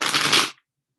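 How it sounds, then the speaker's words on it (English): Tarot cards being shuffled, a short dense riffling burst about half a second long that stops abruptly, close and fairly loud with no talking. "So suddenly I can't shuffle."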